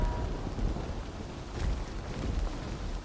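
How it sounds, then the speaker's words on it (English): Rain in the video game Dying Light 2 falls as a steady, low rumbling wash, with a brief stronger surge partway through and no voices. "but is it starting to rain?"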